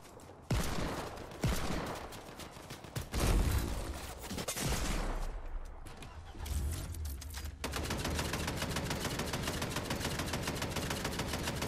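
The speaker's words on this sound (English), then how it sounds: "Until this Dorcas decides to start shooting me." Rapid bursts of enemy gunfire in a shooter video game, sharp cracks in the opening seconds giving way to a steady, dense automatic rattle that runs loud and continuous to the end, with no talk over it.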